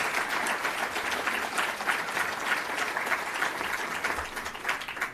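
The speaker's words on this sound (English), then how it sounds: "Let's give a loud round of applause to the men and women of organized labor." Crowd applauding at a state Democratic Party breakfast in a large hall, a continuous dense wash of clapping hands at steady volume for several seconds before tapering slightly at the end.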